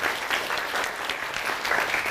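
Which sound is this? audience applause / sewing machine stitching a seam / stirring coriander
audience applause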